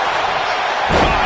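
A diving knee drop slam in WWE 2K25, a single heavy impact landing near the end after a steady crowd roar.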